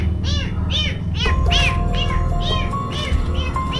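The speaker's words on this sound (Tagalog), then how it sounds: "Yung pusa pinakain natin, hindi ayaw niya kumain." A cat meows repeatedly in a cemetery in Samboan, giving about seven rising-falling cries at a steady pace, close by. A faint steady tone and low background rumble run underneath.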